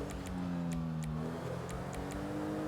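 A car engine drones steadily in a video game, a close, sustained hum with shifting pitch and faint ticking clicks over it.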